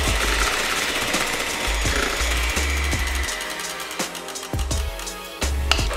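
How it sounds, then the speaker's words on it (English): An electric hand mixer beats 250 grams of cream cheese with half a cup of sugar on low speed for a strawberry cheesecake, giving a close, continuous buzzing whir with rhythmic knocks as the beaters hit the bowl. "Using a mixer, haluin natin ito in low speed until well combined."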